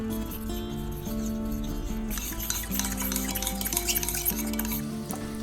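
A batter of eggs, corn flour, red chili powder, salt and pepper is stirred in a bowl, soft scraping and light clinks of utensil against the dish repeating at a quiet, close level with a low hum behind.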